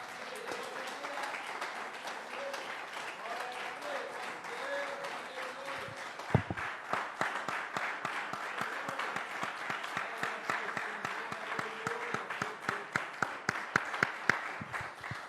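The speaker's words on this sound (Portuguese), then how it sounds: "Você pode aplaudir o Senhor mais uma vez?" Church congregation at an evening service applauding, clapping building into rhythmic, sharp, individually audible claps while a voice and background music continue underneath.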